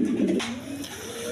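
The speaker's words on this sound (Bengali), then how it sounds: "দর্শকবৃন্দ এখানে আরেক পেয়ার কবুতর আছে।" A pair of pigeons, a Girijal breed, give a short, low, close cooing call with no other sound.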